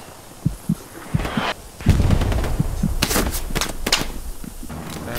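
Gunfire crackles in the World War II shooter game Hell Let Loose: scattered single shots early, then a louder, denser burst of rapid shots and distant booms over a rumbling battlefield bed.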